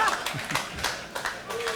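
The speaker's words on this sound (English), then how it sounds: "Loudest applause of the night." Applause from a live debate audience, dense and fairly close throughout, with some voices mixed in the crowd noise.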